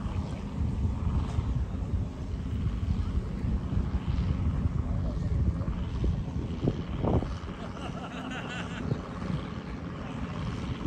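A de Havilland Beaver propeller plane at the 2022 warbird meeting in Oberhausen gives off a steady, loud, rumbling roar that holds for the whole stretch, with a windy, broadband wash and no voices.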